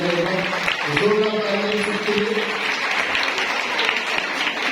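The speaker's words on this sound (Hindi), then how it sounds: "इसलिए जोरदार ताली" A parish audience at a Women's Day programme claps loudly for the daughters, a steady dense round of applause running throughout, with voices and some tonal sound mixed in near the start.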